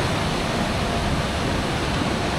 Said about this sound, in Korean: 또랑이 흐르네요